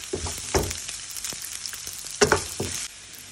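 Onions are dropped onto browned garlic in a hot pan, bursting into loud frying with sharp spatula scrapes and clatters close up, then the sizzle thins out near the end; nobody speaks.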